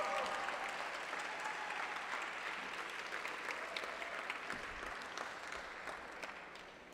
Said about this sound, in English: just a warm round of applause for all the teams and all the stakeholders